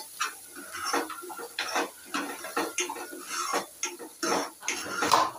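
Spoon scraping and clinking against a pan while matar paneer, peas and paneer cooked with onion and tomato, is stirred: a steady series of close, irregular metallic scrapes and taps with no talking.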